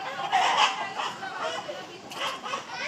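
Desi and coloured broiler chickens clucking on a poultry farm, a steady layered flock chatter with overlapping calls throughout, close by, with a person talking over the birds.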